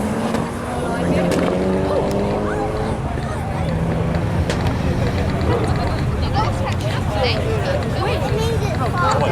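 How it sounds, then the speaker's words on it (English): A VW GTI and an Audi Quattro launch side by side in a no-prep drag race at North Weald, engines roaring loudly and continuously under a commentator's voice and crowd babble. "So GTI up against the Audi Quattro, the greens are on, you should be gone."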